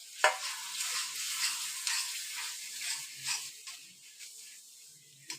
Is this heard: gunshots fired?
no